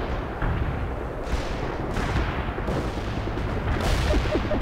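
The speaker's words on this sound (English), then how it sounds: "Command reports the missile has been launched." A missile launch in the war game World in Conflict: a loud, sustained roaring blast with rumbling low end and repeated heavy booms surging over several seconds.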